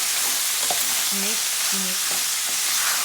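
Steady loud frying hiss from a salt fish stew with salt and black pepper as it is stirred, a few faint scrapes and clinks over the constant sizzle.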